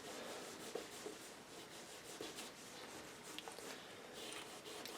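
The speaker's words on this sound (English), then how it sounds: "I'm just going to take it and I'm just going to scrub the leather now." Leather sneakers scrubbed with a cotton ball and cleaner: a continuous, quiet rubbing and scrubbing close up, with rapid back-and-forth strokes and no talking.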